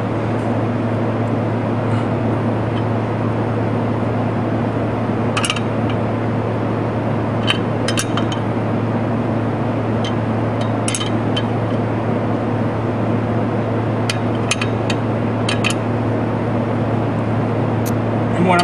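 A wrench tightens 9/16 nuts on the exhaust resonator clamp of a GM W-body car, giving scattered short metallic clicks in small bursts over a steady low droning hum and broadband background noise.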